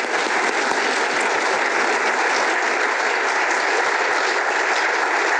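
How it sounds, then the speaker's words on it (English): An audience applauding at the end of a formal oration in a hall, dense sustained clapping from many hands, loud and even for the whole stretch. "Can we have a round of applause?"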